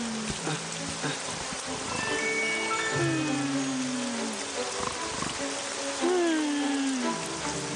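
Steady cartoon rainfall pours down as a dense, even hiss throughout, with animated character voices and squeaky gliding tones rising above it.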